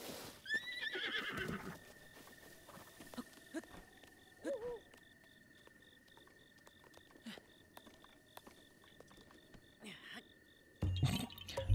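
A horse neighs and whinnies in the Legend of Zelda: Breath of the Wild, with a brief loud call near the start amid faint outdoor game ambience, sporadic clicks, and a louder burst of sound at the end.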